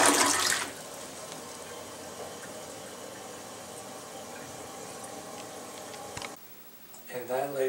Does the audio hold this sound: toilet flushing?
yes